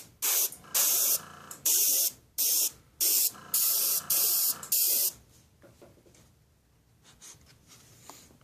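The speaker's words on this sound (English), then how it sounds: "so we'll go ahead and spray this with the red here" Red spray paint going onto a scale model part, about eight short, loud aerosol hisses in bursts of roughly half a second, followed by quiet rustling handling noises, with no talk.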